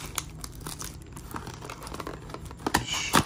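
A Topps Stadium Club cardboard card box torn open by hand, continuous close crinkling and ripping with sharper tearing bursts toward the end.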